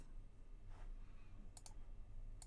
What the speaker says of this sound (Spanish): hacemos un doble clic